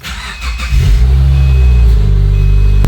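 A 2010 Subaru Forester engine cranks briefly and catches after a spark plug replacement, then settles into a loud, steady idle close by.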